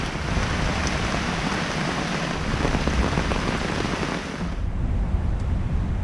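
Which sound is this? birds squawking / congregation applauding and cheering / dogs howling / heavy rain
heavy rain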